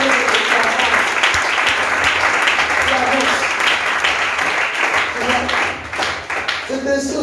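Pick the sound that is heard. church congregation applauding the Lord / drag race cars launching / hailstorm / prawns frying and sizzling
church congregation applauding the Lord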